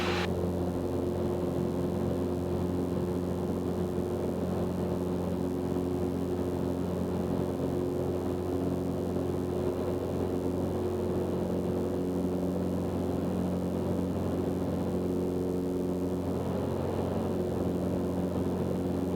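A Zenith CH 750 Cruzer light sport kit aircraft in flight produces a steady, loud engine and propeller drone with strong sustained low tones, continuous and unchanging throughout with no talk.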